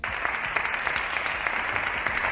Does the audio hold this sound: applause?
yes